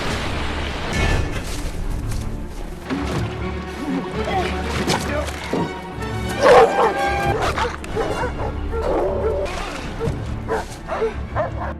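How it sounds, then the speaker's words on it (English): Feral dogs barking and yipping in a frantic chase, loud and close, with crashes and thuds mixed in over a busy, dramatic background. "The feral dogs chased closely behind."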